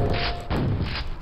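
Two heavy, muffled Quake grenade launcher explosions land in quick succession, each a dense burst of low rumble and crash with no voices.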